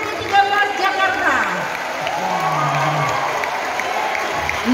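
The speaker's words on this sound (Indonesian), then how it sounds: "Kita boleh aplaus untuk sekolah kita tercinta SMA Negeri 13 Jakarta." Audience at a school event at SMA Negeri 13 Jakarta breaking into sustained applause and crowd noise, with a voice speaking over the clapping.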